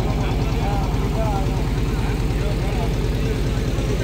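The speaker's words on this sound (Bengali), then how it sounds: "আমরা এখন বোট নিয়ে যাচ্ছি টিবলিগিরি বাজারের কাছে" A motorboat engine chugs in a steady low rumble, continuous and fairly loud, while carrying riders on a small river past spectators gathered for a boat race in the Sundarbans.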